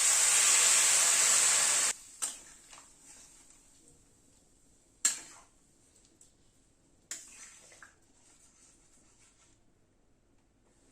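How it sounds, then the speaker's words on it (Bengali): Hot water poured into a pot of khichdi made with winter vegetables, a loud close hissing pour lasting about two seconds, then a few sharp clanks and quieter scrapes with stretches of near silence. "এবার গরম জল দিয়ে দিচ্ছি।"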